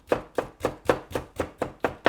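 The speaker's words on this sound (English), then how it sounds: "What are we going to do with shallots? We are going to julienne." A knife julienning shallots on a cutting board for a quick salad, with eight crisp, evenly spaced chops at a steady rhythm, close and clear, with no talking.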